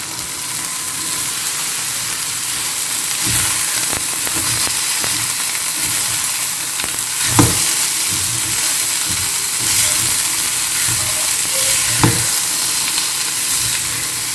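Spring onion sizzling and frying in a pan for a spring onion thoran made without coconut, with a steady hiss and occasional stirring clatters throughout.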